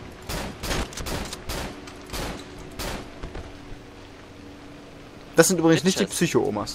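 Shotgun blasts in the horror game Cry of Fear: several sharp, separate shots go off at uneven intervals over a low hum, followed by someone talking.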